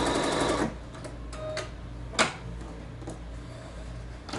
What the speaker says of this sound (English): I'm going to allow it to stitch in exactly the same place as it did earlier